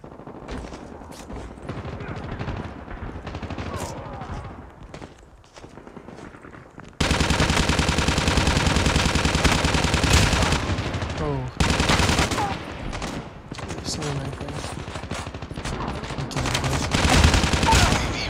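Rapid automatic gunfire in a Call of Duty Mobile match with the UL736 Holiday Ribbons weapon: loud, sustained bursts that come in overlapping volleys with only brief breaks, and a few game voice lines between them.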